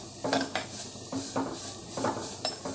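Grated carrot sautéed in ghee for a Diwali sweet, a soft sizzle under repeated metallic scrapes and clinks of a spoon against the pan, roughly one stroke every half second, close and moderately loud, no speech.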